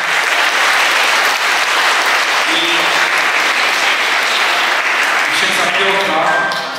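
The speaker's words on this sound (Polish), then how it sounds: "Gorące brawa." Warm applause from the congregation at a church Christmas carol concert, continuous dense clapping that holds steady and loud throughout, with a few faint voices mixed in.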